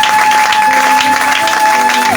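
A church congregation claps and applauds the Lord, a dense, steady wash of many hands close by, with a sustained tone running beneath the applause throughout.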